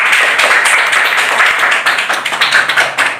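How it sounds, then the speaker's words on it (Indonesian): Classroom of students clapping for a classmate, a dense, steady burst of many hands close by that carries on for a few seconds before thinning slightly toward the end. "Tepuk tangan untuk Mila Nur"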